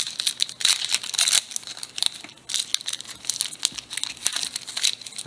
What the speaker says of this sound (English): This pack does not want to be ripped.